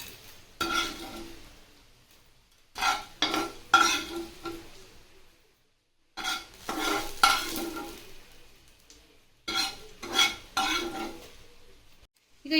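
Green chillies frying in oil in a pan, a steady sizzle broken by repeated bursts of stirring and spoon scraping against the metal, close and fairly loud, with no talking.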